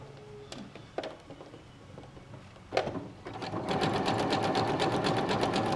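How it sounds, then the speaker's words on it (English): A sewing machine zigzag-stitching nylon webbing for a toilet hammock: a few short starts and stops, then a steady, rapid mechanical chatter running to the end. "we can just continue on with our zigzag stitching, making sure that we are all the way pushed in there with the webbing"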